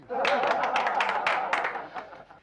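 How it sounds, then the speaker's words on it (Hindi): A small group claps at an office party gathering, a brief burst of close, scattered applause with light chuckling that tapers off after about two seconds. "तालियां बजाओ।"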